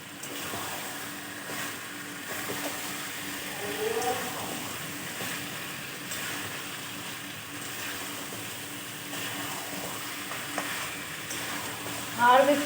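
Meat added to a hot pan and fried with tomato and a little sugar, steady sizzling with stirring and scraping clatters; a brief sharper burst comes near the end.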